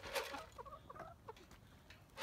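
Several new laying hens clucking and squawking in short bursts near a chicken coop, moderately close, with no talk over them.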